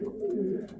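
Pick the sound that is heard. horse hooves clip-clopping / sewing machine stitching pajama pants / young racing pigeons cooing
young racing pigeons cooing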